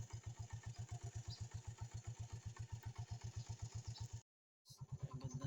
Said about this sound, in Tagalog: ito yung motor ko